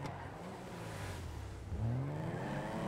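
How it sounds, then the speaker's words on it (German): A car drifting in the video game GTA, with a steady engine drone and a rising whine as the tires slide and rev, loud and continuous. "dann driftet die Karre, guck mal"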